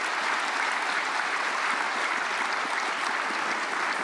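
An audience at a prayer meeting for peaceful reunification claps to welcome a pastor, a thick continuous wash of many hands at a constant loud level, no speech over it.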